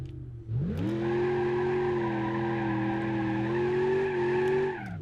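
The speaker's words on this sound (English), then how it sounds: "gear grinding noise." A manual car in the BeamNG driving game gives out a steady tonal engine drone with a grinding edge, rising in pitch near the start, then holding loud and even until it cuts off near the end.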